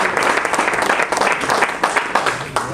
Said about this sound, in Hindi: एक बार जोरदार अपने लिए ताली।